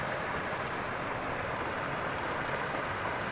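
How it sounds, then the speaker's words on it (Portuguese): Rushing water from a creek swollen by heavy rain, heard from a distance as a steady, broadband roar without letup and no voices over it. "A gente está ouvindo o barulho da água longe, no riacho, no rio, viu?"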